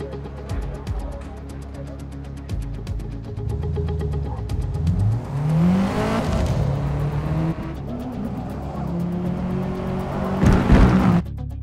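A race car engine in Forza Motorsport 2023 drones and revs through practice laps, its pitch sweeping up and down with gear changes, steady and prominent, with a brief loud surge near the end.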